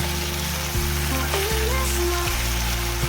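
Steady, loud sizzling of sauces, including tomato sauce, frying in a pan, a continuous crackling hiss with a low hum underneath and no talking.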